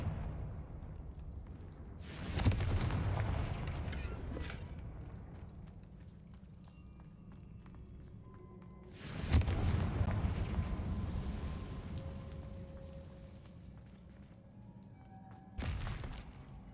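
Spell explosions from the Bombarda and Confringo curses in the Hogwarts Legacy video game, three heavy booming blasts each followed by a long rumbling decay, with soft chimes and tones between.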